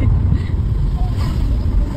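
A vehicle engine drones loud and steady while climbing a zigzag mountain road through Quezon National Forest Park, a deep constant rumble filling the cabin.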